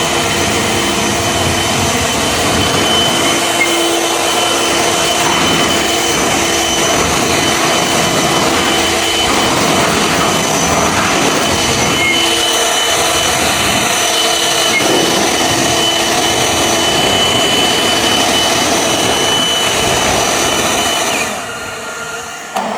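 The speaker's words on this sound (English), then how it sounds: "let's see what 700 miles an hour of an Ego commercial leaf blower will do on the new GenTent" An Ego commercial battery leaf blower roars at full power against a GenTent weatherproof generator cover, a loud, steady whooshing whine held close for about twenty seconds before tapering off at the end.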